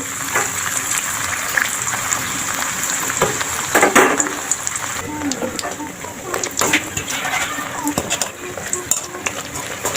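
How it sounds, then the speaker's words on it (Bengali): Luchi fry in a shallow layer of hot oil with a steady, close hiss and sizzle, dotted with small pops and the clink of a utensil against the pan. "এখন আমি লুচিগুলো ভেজে নেব আমি বেশি ডুবো তেলে ভাজবো না অল্প তেল দিয়ে দিয়েছি"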